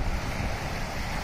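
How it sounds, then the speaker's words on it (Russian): Sea waves washing onto a sandy shore along the Ob, a steady, continuous surf wash blended with wind buffeting the microphone, with no talking. "да, волны отличные"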